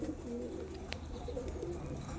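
Andhra pigeons coo steadily in a loft, soft low-pitched calls repeating close by over a constant background hum, with no voices.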